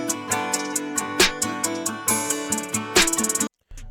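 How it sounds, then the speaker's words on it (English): Open hi-hat hits sizzle on top of a full, punchy country rap beat, with crisp repeating hat strikes over a steady kick and snare groove before a brief drop. "Next we got some open hats"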